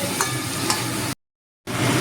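Broccoli stir-frying in a pan over the heat, a steady close sizzle with faint scraping of stirring, cut by a brief silent gap before the frying noise resumes; no speech.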